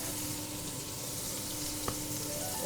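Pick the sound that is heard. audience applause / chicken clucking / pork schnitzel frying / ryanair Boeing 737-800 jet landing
pork schnitzel frying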